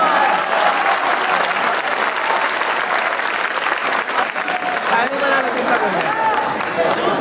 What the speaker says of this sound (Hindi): एक मरतबा सब मिलकर जोरदार तालियां बजा दीजिए